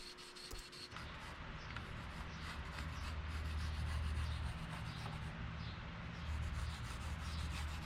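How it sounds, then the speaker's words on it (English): Hand sanding a bevel on a forged ball bearing Damascus hatchet, with steady, close, rhythmic rubbing strokes of abrasive against steel that continue throughout with no talk. "now I can put on the bevel and then do some hand sanding on it"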